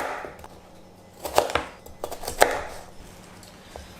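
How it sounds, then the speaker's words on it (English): A knife chops a carrot into cubes on a cutting board, landing a series of irregular, sharp taps with a few louder strikes in the middle, close and fairly quiet. "Carrot, cut it into cubes."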